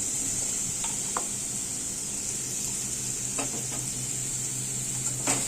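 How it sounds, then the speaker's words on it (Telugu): Cucumber pieces frying in a pan for a cucumber, tomato and prawn curry give a continuous close sizzle, with occasional light scrapes and clinks of stirring and no talk. "దీనిలో దోసకాయ ముక్కలు వేసుకొని"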